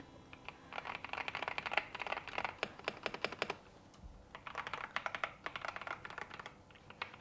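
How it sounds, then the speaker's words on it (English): Typing on a LeoBog Shadow X mechanical keyboard with a 70% layout, quick close keystrokes in two bursts separated by a short pause, crisp and clacky with no voices. "Shadow X really is our very, very special keyboard"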